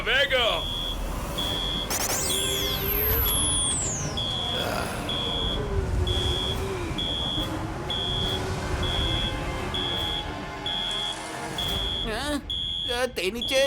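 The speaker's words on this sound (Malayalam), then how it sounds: "കാരണം അലാം ഇപ്പോഴും ജോലി ചെയ്യുന്നുണ്ടായിരിക്കും" An electronic alarm beeps in a rapid, evenly spaced pulse for nearly the whole stretch in an animated adventure scene, layered with swooping whoosh effects and background rumble.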